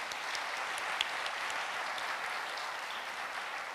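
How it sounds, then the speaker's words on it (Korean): Congregation applauding the worship team at a Korean church testimony gathering, a steady, moderately distant wash of many hands clapping with no voices over it. "찬양해 주시는 우리 찬양팀께도 다시 한번 큰 박수 부탁드립니다"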